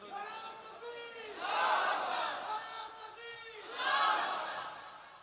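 A crowd at a religious gathering shouts takbir in two loud, swelling collective roars, with a lone voice calling out before each.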